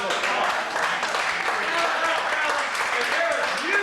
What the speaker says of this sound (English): Matt, you guys, big round of applause.